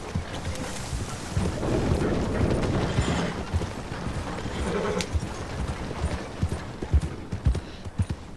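Horse hooves clip-clop in Red Dead Redemption 2, a steady galloping patter over wind and muddy ground noise, moderately loud throughout with occasional sharper strikes.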